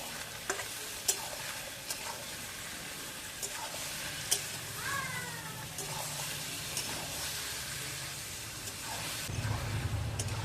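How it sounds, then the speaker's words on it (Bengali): Chicken pieces fry with onions in a pan for mustard chicken: a constant soft sizzle broken by occasional spatula taps and scrapes, close but fairly quiet, with a faint brief voice partway through. "চিকেনটাও পেঁয়াজের সঙ্গে একটু ভেজে দিচ্ছি।"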